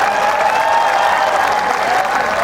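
Sustained applause from an audience at a live Hindi kavi sammelan poetry recital at KNIT Sultanpur, a dense, steady wash of clapping filling the hall with a faint tonal hum underneath and no break.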